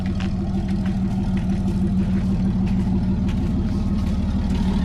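A 36-year-old Toyota Land Cruiser engine runs steadily as the vehicle drives, a low, continuous mechanical drone with faint clatter and no voices over it.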